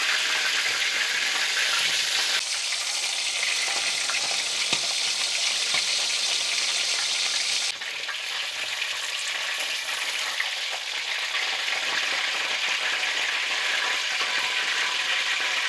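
Chicken legs fry in a pan to a deep brown, keeping up a steady, loud sizzle with crisp crackling and occasional stirring sounds, dipping briefly in intensity midway with no speech over it.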